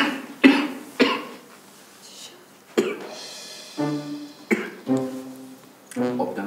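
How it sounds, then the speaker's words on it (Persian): A few short coughs break out at intervals over a hum of voices, with people speaking in between. "سرفه کرد دیگه"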